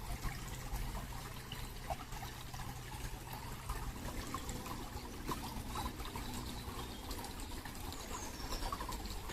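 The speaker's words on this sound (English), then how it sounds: "Barely much, but a trickling stream." A low summer river reduced to a trickling stream, a soft continuous dribble of shallow water heard outdoors with faint birds and rustling in the background.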